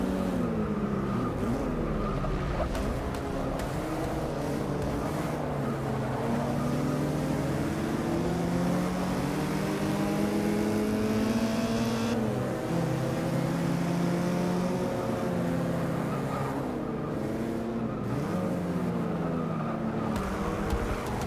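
A Porsche race car's engine drones steadily in Forza 6 at Virginia International Raceway, revving up and down through gear changes across a continuous lap, with no voices over it.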